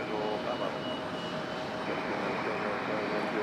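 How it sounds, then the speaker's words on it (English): JetBlue Airbus A220 jet taxiing at Raleigh-Durham airport, a steady, moderate engine whine and broadband rumble holding evenly throughout without pause. "All right, we go from one JetBlue A220 to another."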